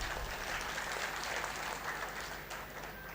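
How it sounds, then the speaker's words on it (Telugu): Loud, continuous applause from a large crowd at a rally about protecting Adivasis and Bastar, a dense wash of clapping filling the whole stretch and easing slightly toward the end. "నాతో సమ్మతించే వాళ్ళు గట్టిగా చప్పట్లు కొట్టవచ్చు"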